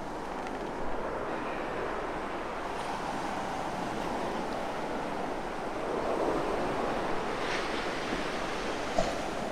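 Surf breaking on a beach: a steady broad wash of waves with gusty wind noise throughout, swelling slightly near the end, with no voices.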